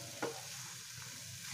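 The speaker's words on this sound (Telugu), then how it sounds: "దీనిని ఒకసారి మొత్తం కలుపుకోకూడదండి స్లోగా కలుపుకుంటే" Egg and ridge gourd curry being stirred slowly in a pan, a faint scrape of the spoon near the start over a steady low sizzle that stays quiet throughout.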